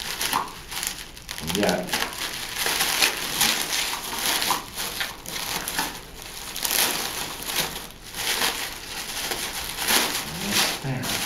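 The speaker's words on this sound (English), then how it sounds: "Probably cut away from the prop in case I slip." Packaging around a Fallout Lanius prop is cut open, with close, repeated crinkling and rustling of plastic and paper while a person talks over it.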